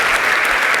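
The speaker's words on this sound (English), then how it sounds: "So, give a round of applause for Rob." Audience applause for a speaker at a tech conference talk on monitoring, a brief, dense, steady wash of clapping from a crowd with no voices.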